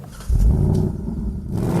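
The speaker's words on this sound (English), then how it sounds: "when you fire up the engine" A Ford Mustang's normally aspirated 5-litre V8 fires up with a sudden loud, deep burst that settles into a steady, rumbling idle close by, with no talking over it.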